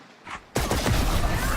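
Gunfire in Valorant during a pro grand-final match on the Sunset map, a sudden loud crack after a quiet lead-in followed by a dense burst of overlapping shots and game effects.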